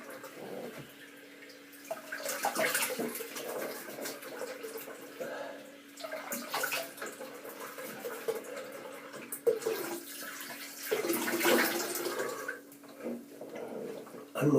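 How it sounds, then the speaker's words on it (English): Running tap water splashes as a face is rinsed at a bathroom sink after a shave, with irregular bursts of splashing and dribbling close by, quiet between the washes and rising toward the end. "I'm just going to rinse my face with a drop of clean water."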